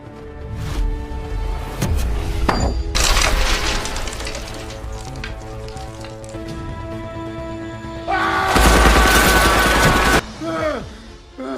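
Action film fight scene with bursts of gunfire, sharp loud shots and a sustained rapid volley mixed with impacts and booms, the heaviest burst arriving late, under dramatic score and effects.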